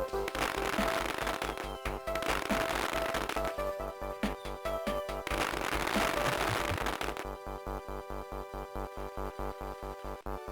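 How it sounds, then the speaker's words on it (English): Fireworks in the Game Boy Advance Donkey Kong Country: dense crackling bursts and rapid popping over busy game music, loud and continuous with bright sparkly tails. "There's fireworks for some reason."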